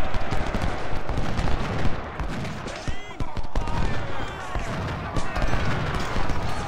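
Cannon and gunfire from an American Civil War battle in the strategy game Ultimate General: Civil War, rapid booming shots over a battle din while someone talks in German.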